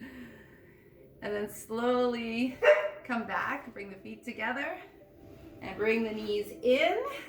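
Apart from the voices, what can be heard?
dog barking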